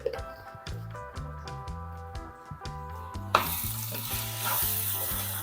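Potatoes fry with Kashmiri chili powder in a pan for a fenugreek-leaf curry, the spoon or spatula tapping in a steady rhythm over a sizzle that grows louder and fuller partway through.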